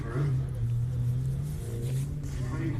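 A rally car at the Jack Frost Rally holds a steady mid-pitched engine drone, fairly near and moderately loud, with faint voices around it.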